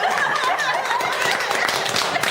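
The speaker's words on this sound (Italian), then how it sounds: "bravo, applauso" Applause from diners gathered at a fraternal meal, a steady dense clapping that fills the room, mixed with a few chuckles.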